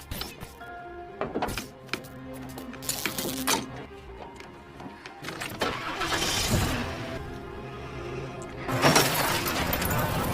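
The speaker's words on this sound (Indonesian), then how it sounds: "bagaimana caranya menyalakan mobil tanpa starter" A car engine is started without using the starter, with engine hum running under loud bangs, clatter and crashing bursts throughout.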